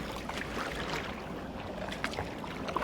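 A boat travelling along a river with a swami guiding it ahead at around 28 speed gives a steady broadband rush of engine and water, even and continuous with a few small splashes and knocks.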